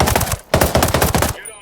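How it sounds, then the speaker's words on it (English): Rapid automatic gunfire in the video game Ghost Recon Breakpoint, two loud, close bursts separated by a brief pause, ending abruptly. "Gunshots! Hostiles are attacking!"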